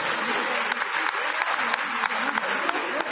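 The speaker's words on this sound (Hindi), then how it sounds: "सभी बहनें तालियां बजाकर धन्यवाद करें।" Women at a Panchkula women's conference clap together in sustained applause, a dense steady patter with occasional sharper claps, fairly close and filling the room.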